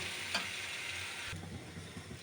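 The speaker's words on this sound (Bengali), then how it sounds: "এবার আমি চালটাকে ভালো করে ভেজে নেব।" Rice being fried in ghee in a pot for beef biryani, a soft close sizzle with a brief stirring scrape and quiet clicks, no voices.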